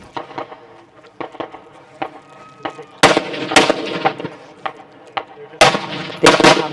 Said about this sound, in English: they will come to the firing line, starting with their rifle.